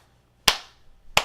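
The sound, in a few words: hands clapping at a normal cadence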